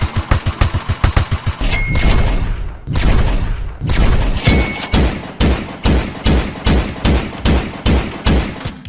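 A player's weapon in a homemade video game fires rapid, evenly spaced gunshots in bursts with short pauses, loud and close, with no talk over them.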